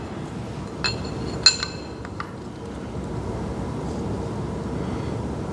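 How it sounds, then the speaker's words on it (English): Metal timing gear being fitted onto a cam on an engine, giving a few sharp metallic clinks and taps close by over a steady low hum, with one louder ringing clink near the middle. "Let's get the gear on."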